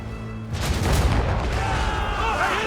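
Cannon and gunfire in Assassin's Creed Rogue: a deep booming blast that rolls out into rumbling aftershocks, with shouting voices nearby.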